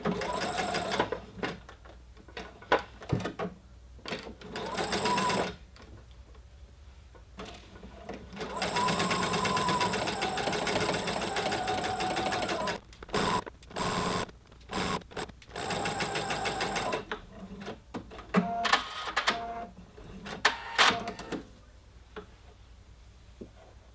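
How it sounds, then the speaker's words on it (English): A sewing machine runs a 5/8 seam with back tacking on a ruffled collar and yoke, whirring steadily in several bursts with short stops and clicks between runs. "So let's just sew this together now with the 5/8 seam."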